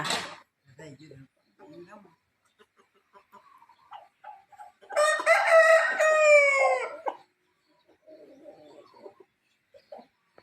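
A fighting rooster lets out one loud, drawn-out crow near the middle, with men chatting in Thai before and after it.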